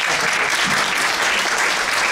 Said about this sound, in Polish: imieniny Krystyny, żony pana dyrektora. No, brawa dla